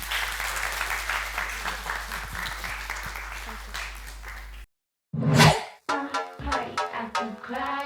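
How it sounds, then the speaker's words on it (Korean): Applause from a church audience after a youth short-term mission report from Thailand, a steady crowd clapping that cuts off abruptly into silence before music with singing begins. "큰 박수 부탁드립니다."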